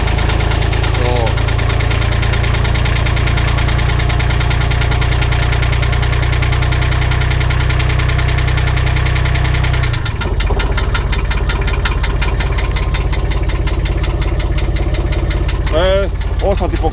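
A Kubota excavator's diesel engine runs just after starting during repair and hydraulic-hose work, a loud, close, steady idling rumble with knocking vibration that shifts in tone partway through as the throttle changes.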